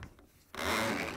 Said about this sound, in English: And now we can slide the drain hose